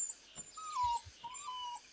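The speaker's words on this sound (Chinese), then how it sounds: "去摸摸小狗狗" A small dog whimpers softly in a few thin, wavering whines, close by and quiet, with no talking.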